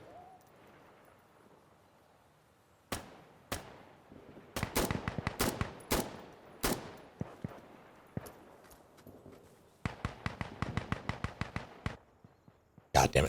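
Gunfire in Insurgency: Sandstorm, loud sharp shots in single cracks and rapid automatic bursts, fairly close, with quieter gaps between them.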